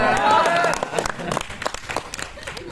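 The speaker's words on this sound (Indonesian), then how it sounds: "tepuk tangan dong" Brief audience clapping during a fire-safety and emergency training session, starting under a voice and then thinning into scattered claps.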